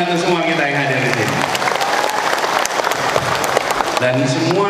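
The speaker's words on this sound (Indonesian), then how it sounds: "Boleh tepuk tangan untuk semua kita yang hadir di sini" A crowd at an outdoor political gathering breaks into sustained applause, dense clapping throughout with a speaker's voice heard over it at the start and end, loud and continuous.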